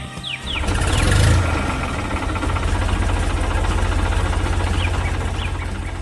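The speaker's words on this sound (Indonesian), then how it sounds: "Lihat traktor kuning itu datang membantu." A yellow farm tractor's engine runs steadily and loud throughout, a low continuous rumble with a brief surge near the start and some higher clatter over it.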